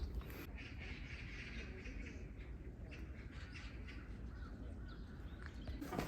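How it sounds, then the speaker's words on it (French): Crows and other birds call in a forest overgrown around an abandoned amusement park in South Korea, with scattered caws and chirps, mostly faint and distant, over a steady outdoor hiss. "Les corbeaux, les oiseaux."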